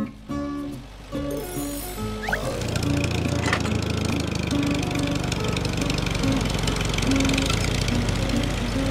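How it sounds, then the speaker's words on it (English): Tractor engine running with a steady, rough, loud drone that builds after a brief start and holds without a break, over a light musical background. "Tractor."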